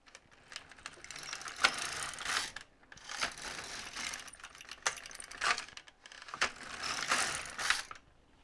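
An LK150 knitting machine knitting rows, its carriage sweeping back and forth in several clattering, ratcheting passes with brief pauses between them, close and clear, with no talking.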